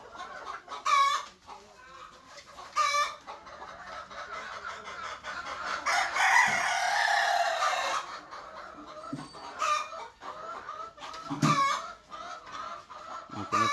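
Egg-laying local chickens on a farm cluck repeatedly at close range, with a rooster crowing over the flock partway through and scattered bird calls throughout.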